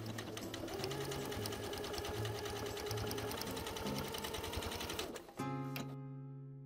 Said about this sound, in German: auf der Belegseite mit 2 mm Abstand niedergesteppt werden